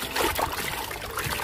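Water trickles and splashes steadily while a sandy toy dump truck is rinsed clean, a close, continuous wet dribbling with no voices.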